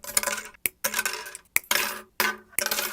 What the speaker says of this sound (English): Now I'm going to cut 5 of these lengths of wire.